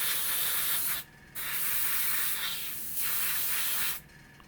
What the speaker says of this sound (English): Lots of little nooks and crannies you've got to get it into where you're spraying.